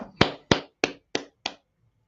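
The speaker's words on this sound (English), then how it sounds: "Clap it up." Five sharp, evenly spaced hand claps ring out close and crisp in a quiet room, each with a brief decay, followed by silence.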